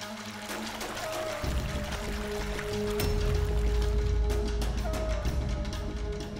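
Water poured steadily into a glass indoors, a continuous close splashing flow that lasts throughout.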